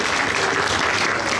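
An audience gives dense, steady applause to the participants of a cosplay contest, a continuous wash of clapping with no talk over it.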